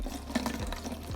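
Water concoction is strained through a strainer into a container, a brief close splashing pour with a steady liquid trickle.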